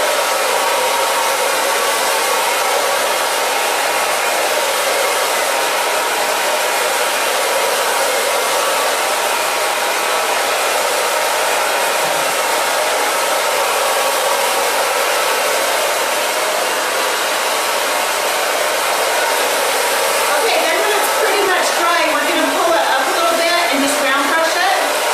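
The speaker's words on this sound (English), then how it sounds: "now we're just going to dry this down." A hair dryer blows on a girl's long hair, a loud, continuous, steady whooshing roar that lasts throughout with only slight shifts in tone as it moves.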